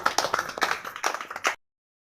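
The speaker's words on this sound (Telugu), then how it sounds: "కొట్టరే చప్పట్లు గట్టిగా." A group clapping during a meditation gathering, a quick run of distinct, fairly close claps in an uneven rhythm that stops abruptly after about a second and a half, leaving silence.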